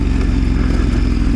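The engine of a dual sport motorcycle ridden through desert sand while the clutch is feathered, a loud steady close rumble with a low churning texture and no talk.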